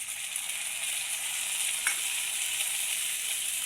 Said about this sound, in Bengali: রসুনটাকে অল্প ফ্রাই করতে লাগবে